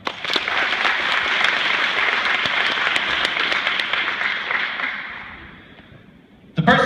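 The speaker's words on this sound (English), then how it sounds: "Give Trevor a round of applause." An after-prom hypnosis show audience bursts into loud sustained applause that holds for several seconds, then fades away before a sudden sharp noise at the very end.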